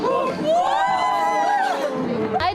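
University festival fans cheering for their faculty, a lively crowd of shouting and chanting voices mixed with chatter, fairly close and continuous.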